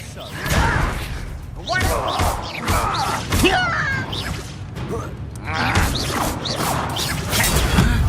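Confringo blasting spells burst with heavy thuds and crashing impacts during a Hogwarts Legacy wizard fight, repeated bangs landing every second or so amid busy game effects and a talking voice.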